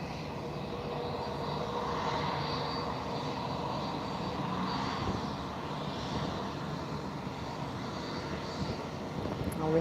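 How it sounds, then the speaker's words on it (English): Lufthansa A321 at Lisbon Airport turning round and waiting to take off, a steady, moderately distant engine rumble and whine that holds level throughout with no voices. "A321 turning round and waiting to take off"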